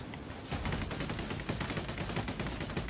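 Rapid, dense gunfire rattles without pause from a twin-stick shooter video game, Solstice Chronicles MIA, loud and continuous across the whole stretch.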